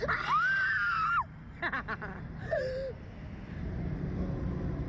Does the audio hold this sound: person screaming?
yes